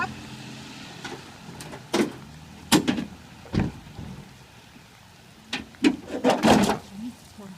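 The hood of a 1970 Oldsmobile 442 is opened with a series of close metallic clunks and knocks, scattered irregularly over quiet pauses and bunched toward the end.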